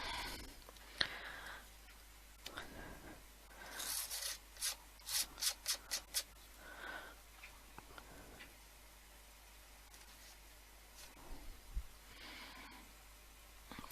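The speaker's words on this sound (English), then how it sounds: "try and scrape some of that off." A collage being scraped by hand, a quiet series of short rasping strokes in a rhythmic cluster with softer scrapes before and after.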